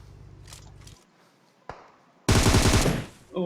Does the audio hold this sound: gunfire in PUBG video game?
yes